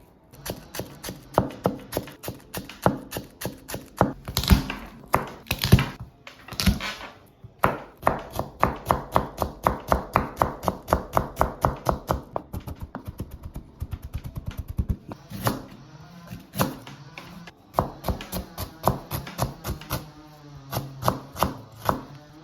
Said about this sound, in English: I'm gonna do the fine chop of spring onion